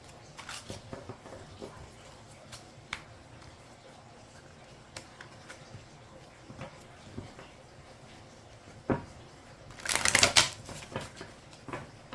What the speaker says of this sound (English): We'll get a few shuffles here